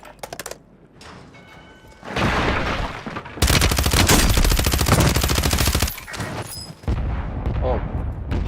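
Heavy gunfire in the video game Warzone, with dense bursts of rapid automatic shots filling the middle of the clip, loud and close, plus scattered shots at the start and end.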